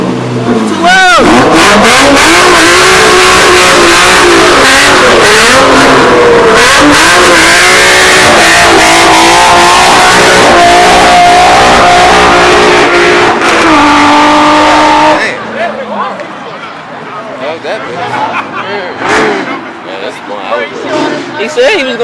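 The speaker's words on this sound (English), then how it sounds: "His exhaust is loud as fuck." A Honda S2000 engine revs hard with a loud, raspy exhaust, roaring up and down for several seconds before dropping away, with people talking over it.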